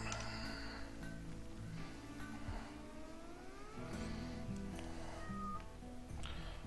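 A cat named Choo Choo meows in the video game RimWorld during a desert colony run. Several faint meows and rising chirps come over a low hum of game ambience and steady background noise.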